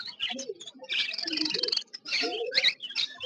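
Many small caged birds chirp and twitter at once at a bird market, a busy overlapping chorus of short calls heard close by.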